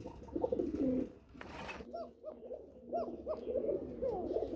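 Fancy pigeons kept for sale coo repeatedly at close range in a low, throaty rolling rhythm, several calls overlapping in quick succession over a background of faint voices and room noise.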